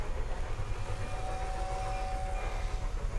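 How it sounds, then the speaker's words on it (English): Model toy trains run along their track with a continuous low rolling rumble and a faint steady whine above it, even and unbroken, with no voices. "you took out the trains."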